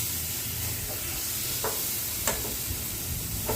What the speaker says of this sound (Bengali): এবার এর মধ্যে আমি জল দিয়ে দেবো সামান্য